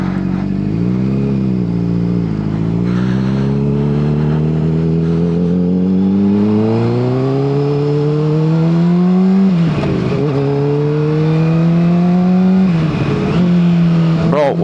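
A Honda CBR600RR motorcycle engine hums steadily close by, its pitch climbing gradually as the bike gathers speed, with two sharp rev swells near the end; a voice talks over it throughout.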